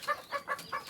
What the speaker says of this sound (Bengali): আমার কয়েকটা ফার্মি মুরগি, চকের ফার্মি মুরগি যদি বলতে পারি, বেশি না, মাত্র 10টা আছে।